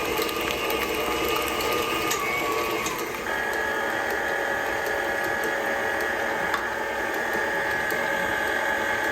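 An electric mixer whirs steadily as it beats frosting with vanilla, a loud, even mechanical drone with a whining motor tone that shifts pitch partway through and holds without pause.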